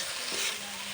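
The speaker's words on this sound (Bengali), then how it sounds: "টমেটোগুলো ভাজা হচ্ছে।" A brief, steady sizzle of tomatoes frying in a pan for khichuri, soft and close with a fine crackle and no talk.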